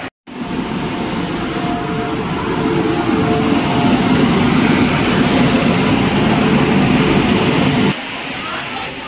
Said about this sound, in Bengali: আমাদের ট্রেন কিন্তু দিয়ে দিয়েছে 4 নম্বর প্ল্যাটফর্মে।